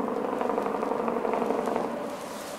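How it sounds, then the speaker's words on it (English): A truck passing on a distant highway, a faint steady low rumble with light crackle outdoors by a pond, no voices. "It's a truck on the highway, I guess."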